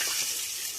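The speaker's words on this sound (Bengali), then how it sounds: "তেজপাতা, একটা শুকনো ঝাল ফোড়নে, জিরে, কাঁচা ঝাল করে দিয়ে দিই।" Bay leaf, a dried chilli, cumin and green chilli hit hot oil for a tempering, giving a short, close burst of crackling sizzle.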